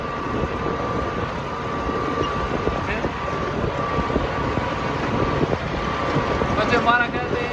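Steady wind blows across an open farm field, a constant close rushing that buffets the microphone and holds without a break throughout.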